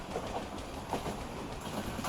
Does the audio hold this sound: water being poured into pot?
no